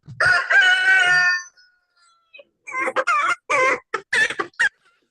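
A rooster crows loudly and close, one long call followed by a burst of shorter, choppy clucking notes.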